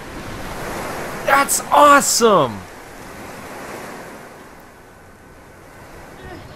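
In the video game The Last Guardian, a large creature jumps into water, raising a wave that washes with a steady, surf-like roar. A man briefly exclaims over it early on.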